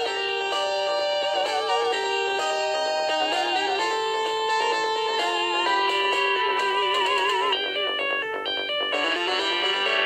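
The 16-bit intro theme from the Splatterhouse video game plays as a steady chiptune melody with layered synthetic tones and a constant pulse, clear and uninterrupted throughout.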